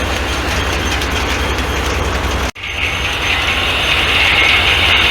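An antique Corley sawmill carriage rumbles steadily along under machinery noise, with one brief sharp clunk midway before the loud running drone continues.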